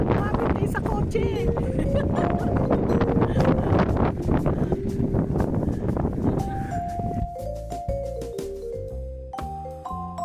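Strong gusty wind buffets the microphone at a lettuce farm in Bagac, Bataan, a loud broadband rush that eases after several seconds, with people talking and some tonal sounds over it.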